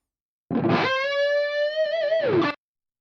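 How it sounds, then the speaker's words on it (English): Sustained lead guitar line with micro shift widening effect, a single held, bending note with rich harmonics and slight vibrato, played alone, clear and upfront for about two seconds. "I want you to listen to what happens with micro shift."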